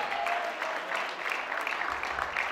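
A church congregation clapping together in a brief, steady burst of rhythmic applause, moderately close, with no one speaking over it.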